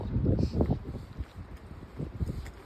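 Strong gusting wind roars in bursts against the microphone outdoors during a storm, low and blustery, rising and falling unevenly with no voices.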